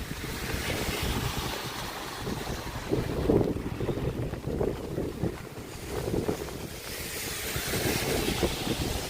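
Strong wind gusts buffet the microphone on a winter street in Toronto, lined with older bungalows, a loud continuous rushing roar that swells and eases with no one speaking.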